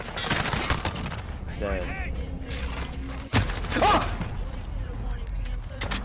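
Gunfire in Call of Duty: Modern Warfare, with rapid shots, mechanical weapon clatter and a sharp burst near the middle, mixed with game effects and a brief spoken word.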